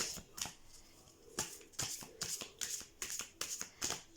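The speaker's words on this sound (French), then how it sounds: "je vais mélanger les cartes et on va en tirer une" A deck of oracle cards being shuffled up close in a series of quick riffling bursts, roughly ten short rhythmic flurries of snapping card edges, with no talking.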